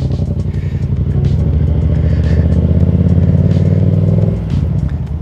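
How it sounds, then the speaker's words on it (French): A heavy motorcycle idles with a steady, loud, low rumble at a Total petrol station; the engine note holds close and continuous, dipping slightly near the end. "vous connaissez mon amour pour la sensation de la moto bien lourde"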